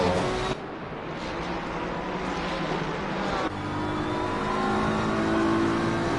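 A Porsche race car in a sim racing game at Kyalami drones with a steady engine whine that shifts pitch partway through, loud and continuous with no talking over it.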